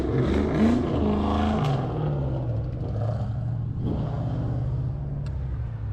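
A Ford Mustang's engine rumbles and revs on a city street, a loud, close, throaty drone with a pitch rise near the start before settling into a steady idle-like growl.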